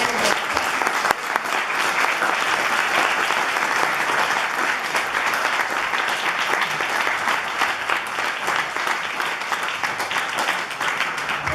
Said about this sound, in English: I want to give our panelists another round of applause.